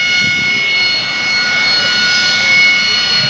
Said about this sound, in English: We've got an airplane out there that's going to be launching here